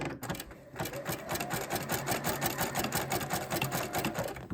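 A sewing machine zigzag-stitches over fabric-wrapped rope at a longer stitch length, running as a steady, fast mechanical chatter of needle strokes close by for the whole stretch, with no talking.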